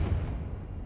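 A Confringo fire spell bursts in Hogwarts Legacy, a single deep, rumbling boom that opens loud and then decays into a low roll.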